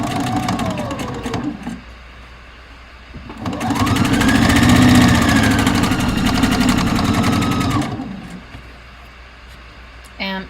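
A domestic sewing machine runs a straight stitch at default length with the needle centered, whirring in two loud bursts separated by a brief pause, with a quieter stretch at the start and end.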